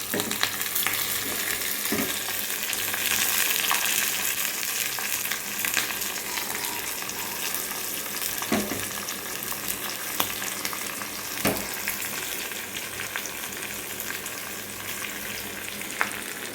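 Dried red chillies, green chillies and torn curry leaves frying in hot oil, a continuous close crackling sizzle with a few soft pops and utensil knocks.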